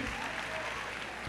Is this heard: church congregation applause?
yes